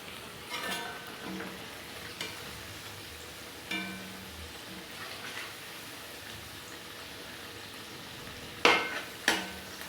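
Koftas frying in a pan of oil give a faint, steady sizzle with a few sharper clinks and spatters near the end, no voices over it.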